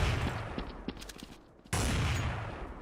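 Video game gunfire: a dense, loud roar of shots that thins into a few sharp cracks, then bursts back in suddenly with heavy sustained fire.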